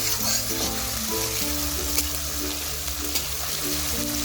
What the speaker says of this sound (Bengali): তো এইভাবে পেঁয়াজ বাটাটাকে একটু নাড়িয়ে ভেজে নিচ্ছি।